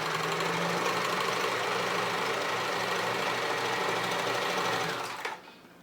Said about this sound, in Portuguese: nós estamos juntando as duas peças, né? E vamos passar a costura.